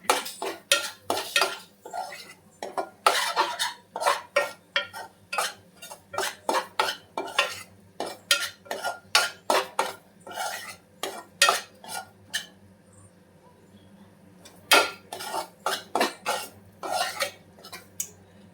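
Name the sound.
stirring drumstick curry with salt in a pot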